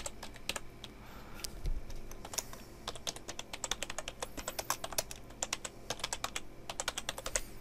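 Someone types quickly on a computer keyboard while scripting a Roblox project. Close, crisp key clicks come in irregular bursts, alone with no voice.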